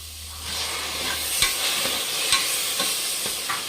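Green peas frying and being stirred with fenugreek greens in a pan for menthya bath, a steady close sizzle broken by several sharp scrapes and clinks of the spoon against the pan, with no talking.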